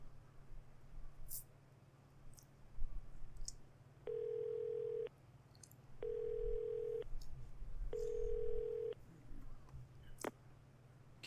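A payphone is used in the video game Yakuza 0. Three evenly spaced ringing tones, each about a second long, sound against a quiet game-ambience hum with a few small clicks, and there is no speech.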